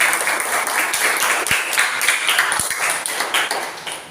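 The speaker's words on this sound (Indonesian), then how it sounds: "tepuk tangan untuk kita semua" A classroom of students claps together, a fairly loud burst of applause with a couple of sharp individual claps or taps standing out, fading slightly toward the end.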